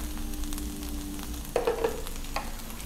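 Lady's finger (okra) frying in a pan: a steady low sizzle with a short burst of stirring and scraping midway, close and moderately quiet, with no voices.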